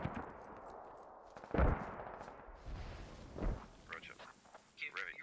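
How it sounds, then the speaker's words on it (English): Mortar rounds landing in a Squad match, heard as two heavy, booming distant impacts a couple of seconds apart over faint battlefield noise, with soft voices talking in the background. "Dwarf got hit by one of those mortars as he was running it through"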